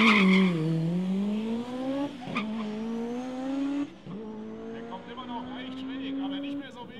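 Mitsubishi EVO drag car launching on two-step launch control with almost no boost, engine note rising then bogging and pulling slowly upward, tires squealing, loud and close under a voice speaking over it.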